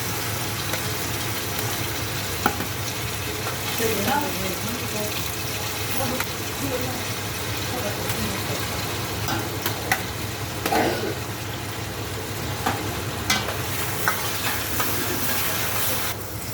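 Onion, cumin and bay leaves fry in a pan for pav bhaji while a spoon stirs them, giving a steady low sizzle broken by occasional scrapes and clinks.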